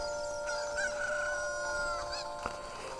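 A rooster crows in a long drawn-out call over steady background chatter of hens, with a brief knock near the end; the chickens are kept by someone allergic to them.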